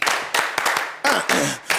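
An audience at a lively show claps in loud, dense bursts of many hands with short gaps, while voices call out faintly underneath.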